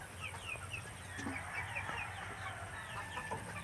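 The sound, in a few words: chicks and chickens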